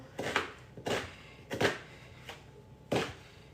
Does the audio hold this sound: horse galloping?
no